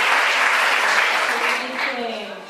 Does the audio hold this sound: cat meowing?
no